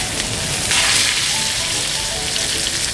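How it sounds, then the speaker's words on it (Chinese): Steak drops into a smoking-hot pan over high heat for a final sear, producing a loud, continuous crackling sizzle that holds steady throughout. "火都维持大火，牛排下去"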